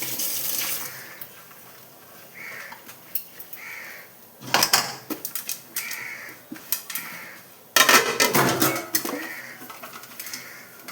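Dishes, pots and pans being washed at a sink in a home kitchen: tap water runs in bursts while metal vessels clank and scrape repeatedly nearby, with quieter pauses between splashes.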